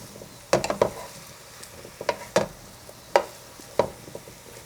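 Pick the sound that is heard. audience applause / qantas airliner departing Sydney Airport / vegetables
vegetables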